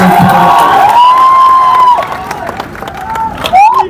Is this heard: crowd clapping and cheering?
yes